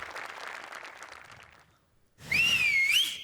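Crowd noise and clapping from an audience at a Marathi comedy show fade to a brief hush, then a loud, sliding two-finger whistle rings out close by over renewed cheering.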